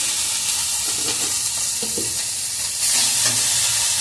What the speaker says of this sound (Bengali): এবারে আমি একটু মশলাটাকে কষিয়ে নিই ভালো করে।